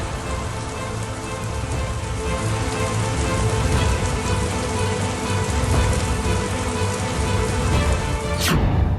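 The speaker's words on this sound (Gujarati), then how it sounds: "ઉત્તર ગુજરાતમાં વરસાદની આશા હતી અને ગઈકાલે પડ્યો પણ ધોધમાર." Heavy downpour in Patan district, Gujarat, a loud, dense, unbroken roar of rain striking surfaces close by, with no voices.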